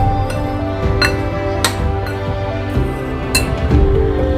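A spoon stirs gulab jamun ingredients in a bowl, giving a run of sharp, close clinks and scrapes at an uneven pace over a steady tonal background.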